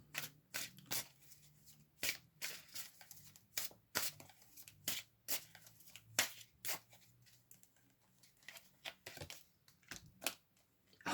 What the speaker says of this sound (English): I'm going to pull a couple of tarot cards for you.